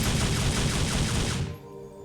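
Two Equilibrium pistols fire together in Fallout: New Vegas, a dense rapid burst of shots that runs for over a second, then cuts off into a brief fading tail.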